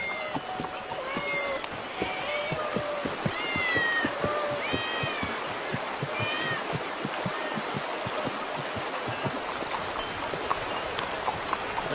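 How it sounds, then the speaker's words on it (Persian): Several cats meow repeatedly in a temple setting, rising and falling calls overlapping one after another against a steady background bustle with faint hoof-like clopping. "این همه گربه اینجا چه میکنن؟"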